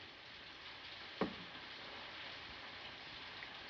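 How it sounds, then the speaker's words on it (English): Soft, steady rain patters quietly on a surface, with one brief louder tap partway through. "It's raining."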